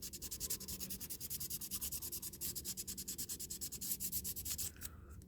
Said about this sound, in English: little piece of sandpaper here. I'm just going to scuff this on the bottom